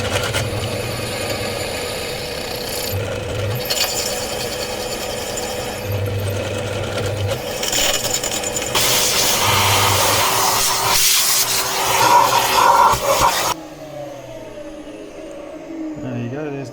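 Pillar drill whirring steadily as it bores a 4mm hole through a metal shaft during a pressure washer repair, the motor drone rising and roughening as the bit cuts, then cutting off and winding down near the end.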